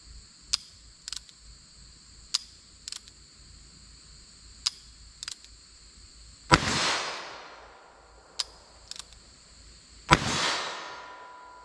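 Two loud, sharp gunshots from .22 WMR and .38 Special rounds at an outdoor range, each with a ringing decay, spaced a few seconds apart amid faint clicks and insect chirps.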